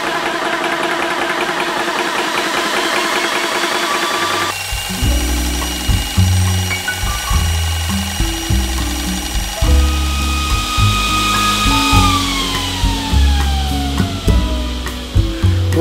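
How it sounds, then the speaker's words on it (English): An air compressor runs with a cooling fan while filling a PCP airgun, giving a loud, steady motor drone that shifts partway through into a heavier, pulsing chug, with a continuous whirring hum above it. "You would always have to keep on the fan when using the compressor, and then put on compressor."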